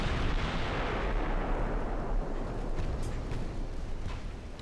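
Naval guns firing in a Greek extended campaign of a naval strategy game, a continuous loud rumble of repeated heavy booms and blasts rolling together without pause.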